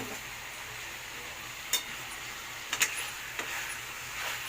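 Chicken rassa masala mixture frying in a pan gives a steady, soft sizzling hiss, broken by a few brief clicks and scrapes, with no talking.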